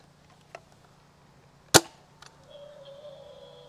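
An Adventure Force AEON PRO foam dart blaster fires a single dart with one sharp, loud snap, followed by faint clicks and a low, thin tone in an otherwise quiet room.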